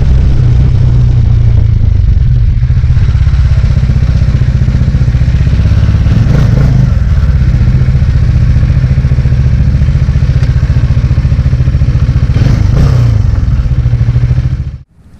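Kawasaki Dominar 400 UG2 motorcycle on a test ride, its engine droning steadily and loud throughout with a low rumble and wind, a couple of brief throttle swells, and no talk.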